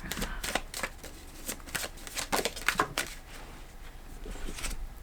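Tarot cards riffled and shuffled in quick bursts of crisp, papery flutters and snaps, close and fairly loud, with brief pauses between shuffles as cards are drawn.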